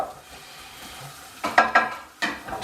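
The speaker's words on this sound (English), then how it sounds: "so we got the onion on, folks. Just" Onion frying gently in a pan sizzles softly and steadily, then a few sharp clinks and scrapes of a utensil stirring, close and clear.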